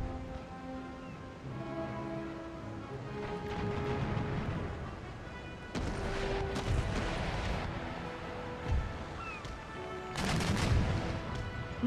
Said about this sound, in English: Chain shot broadside into a mast, didn't do a Scooby.